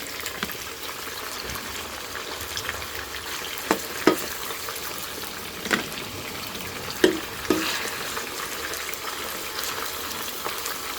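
Steady crackling sizzle of pork ribs frying in hot oil, with a few sharper pops and clinks of a utensil stirring now and then.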